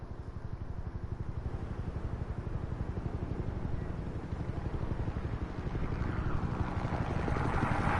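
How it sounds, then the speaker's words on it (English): A helicopter flies steadily overhead, its low rotor thump pulsing in a fast continuous beat at moderate loudness throughout, with no voices. "Helicopter flying all the way to mayor's office."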